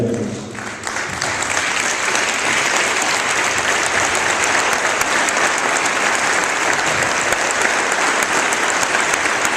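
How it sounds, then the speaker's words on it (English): A seated crowd at a 2015 high school athletic hall of fame induction gives a dense, sustained round of applause for an inductee, a steady wash of clapping lasting about ten seconds with almost no talk. "give Mike a round of applause that are here this evening"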